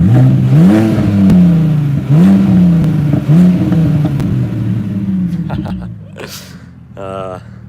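A BMW Z4 sports car engine idles with a deep, loping burble, rising and falling in rhythmic pulses, close and loud, before settling quieter near the end.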